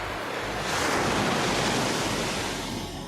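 Ocean waves roll in with the incoming tide, a broad steady wash of surf with some wind noise, swelling slightly in the middle and sustained throughout without any voices.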